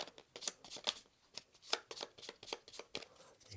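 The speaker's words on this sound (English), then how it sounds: "get out our scavenge deck and shuffle it up" A deck of cards for the Brimstone board game shuffled by hand, a quick series of crisp riffling bursts close up, with no talking.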